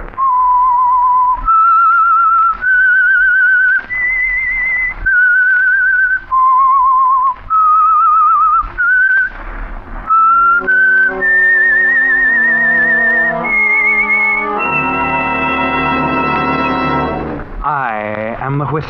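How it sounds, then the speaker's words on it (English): A lone whistler carries the eerie theme of The Whistler radio mystery program, a clear, loud melody of sustained pitched notes, joined toward the end by an orchestral swell. "That whistle is your signal for the Signal Oil program"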